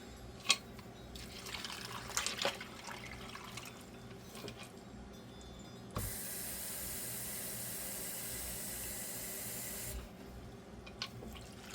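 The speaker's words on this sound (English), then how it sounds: "And I'll finish putting in the water." A steady broadband rush of water poured into a flower container runs for about four seconds, framed by quieter splashes and small clinks before and after.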